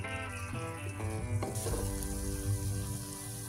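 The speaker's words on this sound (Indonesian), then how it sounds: "masukkan bakso sapi yang sudah kita iris-iris sebelumnya, diaduk-aduk sampai merata" Sliced beef meatballs sizzle and fry in a pan while being stirred, a steady close hiss with soft scraping throughout and no talking.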